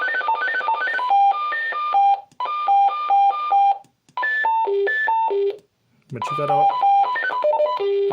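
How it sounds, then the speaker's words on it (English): Call tones from a Retevis HA1G two-way radio play as rapid electronic beep melodies in several short sequences, loud and close, with a brief spoken voice between them. "call tone, you got a lot of different call tones"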